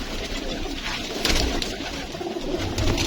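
Pigeons kept by a Karachi hobbyist coo steadily and fairly close, with soft overlapping calls and light rustling over continuous background noise.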